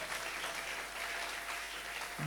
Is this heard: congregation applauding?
yes